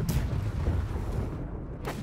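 Ship cannons fire in the naval game Blackwake, two sharp booming shots, one at the start and one near the end, over a steady low rumble of sea and battle.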